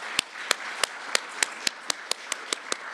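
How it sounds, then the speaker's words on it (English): Claps ring out one at a time in a steady, evenly spaced rhythm as an audience applauds the sponsors of a scientific event. Each sharp clap stands alone above a quiet room. "So our next, yes, they deserve applause."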